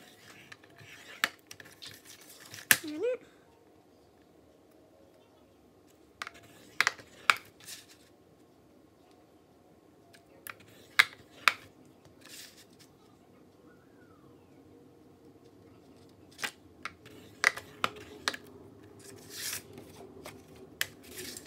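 Paper crafting for a 3D fairy pop-up card, a tool scoring fold lines into card stock: sparse, quiet scratchy strokes come in short clusters with long pauses between them, close and alone with no talk.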